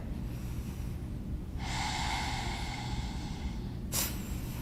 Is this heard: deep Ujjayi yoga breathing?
yes